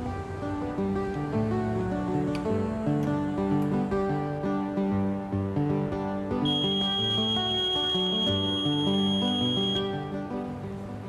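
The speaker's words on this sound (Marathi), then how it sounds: "या बीप आवाजामुळे मतदान केंद्राध्यक्षाला मतदान पूर्ण झाल्याचं कळतं" An electronic voting machine's control unit gives a long, high, steady electronic beep that rings out clearly over a continuous background of music or drone.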